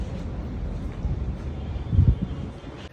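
Wind buffets a microphone outdoors, a steady low rumble with gusty thumps rising briefly in the middle, no clear speech.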